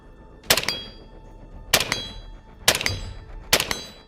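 Four sharp AR-15 rifle shots at a mid-range training session, evenly spaced about a second apart, each a loud crack with a brief ringing tail, no voices.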